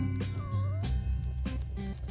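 Cat meowing in Spelunky 2, a couple of short drawn-out mews close up over busy game music and effects.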